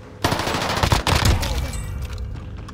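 Rapid gunfire in Call of Duty Warzone on Rebirth Island, a sustained close burst of shots with crackling, overlapping reports lasting a couple of seconds and fading slightly at the end.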